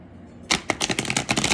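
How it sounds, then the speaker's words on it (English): A deck of tarot cards is shuffled close up, opening with a sharp riffle and followed by a quick run of crisp, rapid card flicks and taps with no talking. "That's a much better shuffle."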